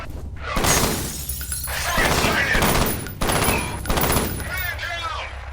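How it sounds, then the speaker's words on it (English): Burst rifle firing in a video game: rapid, loud, clustered shots that repeat over and over in a dense volley, with game sound effects mixed in. "Oh, it's a burst rifle."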